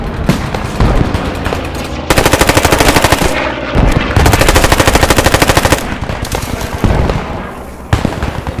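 Machine gun fire in the Post Scriptum war game, loud rapid sustained bursts of automatic fire from a single gun in a church tower, several long rattling strings separated by short pauses.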